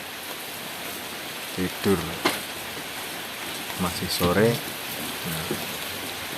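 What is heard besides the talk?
rain falling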